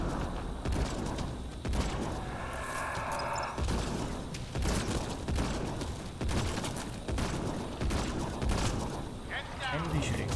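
Sharp bursts of weapon gunfire from a Mass Effect Andromeda multiplayer match, with repeated irregular shots and volleys running steadily through the clip under someone talking.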